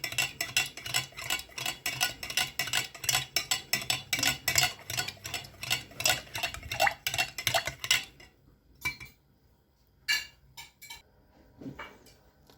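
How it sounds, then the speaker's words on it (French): Hair treatment ingredients mixed briskly in a bowl, a rapid run of close clinking, scraping strokes of a utensil against the container that slows into a few scattered taps before stopping. "on mélange tout très bien."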